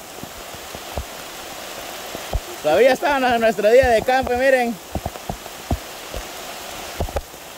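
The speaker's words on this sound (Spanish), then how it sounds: "nos empezó a llover recio aquí" Heavy rain falls steadily during an outdoor picnic, a soft hiss running throughout while people talk loudly over it.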